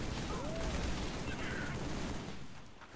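Sniper rifle fire and other gunfire in a modded Halo 3 match, a dense continuous battle din with booming shots blending together at close range, fading slightly toward the end.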